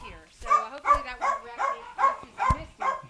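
Three Chihuahuas barking at an outdoor dog facility on a hot day with misters running, a run of seven or so short, high, evenly spaced yaps, loud and close.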